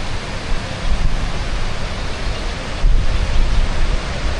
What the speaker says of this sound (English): As the waterfall reveals itself through the woods, through the trees.